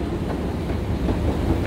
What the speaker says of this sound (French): El metro.